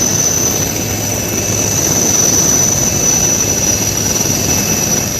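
A rescue helicopter during flood rescue operations in Gujarat drones loudly and continuously with steady rotor and turbine whine, close and dominant throughout, with no voices.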